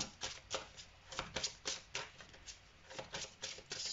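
Oracle cards shuffled and drawn by hand, a run of soft, crisp riffling bursts and flicks repeating in an uneven rhythm, close and fairly quiet, with no talking.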